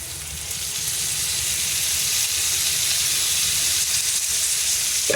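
Prawn adobo with mushrooms sizzles loudly and steadily in a hot pan just after light soy sauce is poured in, a dense, even hiss of frying that fills the whole stretch without talking.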